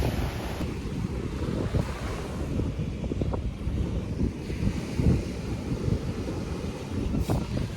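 Ocean surf and gusty wind at a Miami beach roll in a continuous rumbling wash, with wind buffeting the microphone heavily throughout.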